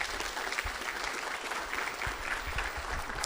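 Audience applause at a city State of the City gathering in Los Alamitos, steady sustained clapping from a room full of people, moderately loud and continuous throughout with no voice over it.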